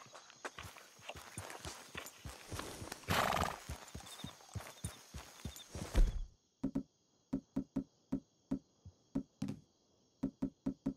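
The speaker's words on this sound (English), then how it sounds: "You're quite a horse." A horse in the Red Dead Redemption 2 video game whinnies loudly near the start amid trotting hoofbeats, then its hooves clop alone in crisp, evenly spaced steps against near silence.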